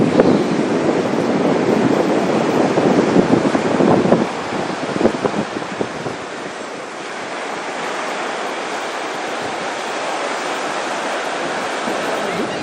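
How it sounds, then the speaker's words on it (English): Ocean waves break on a beach during a surf contest in the Carolinas, a broad roaring wash with wind buffeting the microphone, louder and choppier at first, then settling into a steadier, softer surge. "there's definitely some waves coming in"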